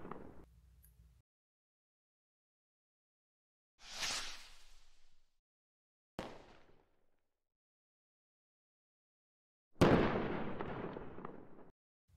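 Cluster firework bursts from a fireworks simulation game go off as three or four separate blasts, each a sharp crack trailing into a brief hissing decay, with silent gaps between them and the final burst the loudest and longest.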